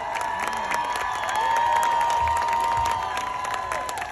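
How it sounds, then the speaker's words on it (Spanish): A crowd of farm workers at a rally applauds and cheers for pilgrims, with loud sustained clapping, shouts and whoops blending into a continuous roar, and whistles and a high tone running through it. "Una fuerte aplauso para todos los peregrinos que están aquí presentes con nosotros"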